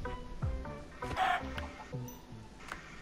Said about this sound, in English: We got a lot of chickens.